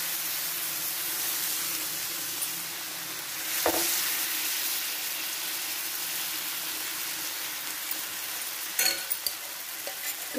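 Aamboli batter frying in a little oil on a Nirlep non-stick tawa, a steady soft sizzling hiss heard close up with a few faint clicks and knocks of a utensil.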